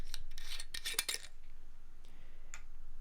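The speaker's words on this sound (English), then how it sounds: "let's go ahead and crack this one open" A bottle of Johnnie Walker Red Label whisky being opened, a cluster of sharp close scraping and clicking sounds from the cap and seal early on, then a couple of faint clicks over low hum.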